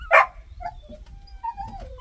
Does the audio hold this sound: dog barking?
yes